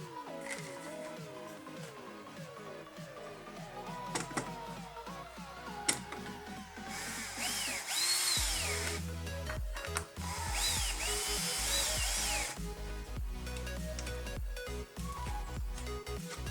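Power drill driving a screw back into a small plywood piece on a homemade wooden clamp, with whining motor bursts that rise and fall, a stretch of louder grinding, and ratcheting clicks, all close by.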